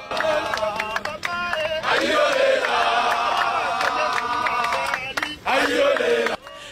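A huge crowd gathered outside the Palais du Peuple, a dense roar of many voices with shouts and cheers rising and falling, briefly dipping before surging again.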